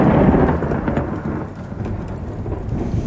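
Deep, rolling thunder rumbles through steady rain for about three seconds, loud and continuous with no distinct crack, a broad low roar that swells early and then settles into a sustained growl.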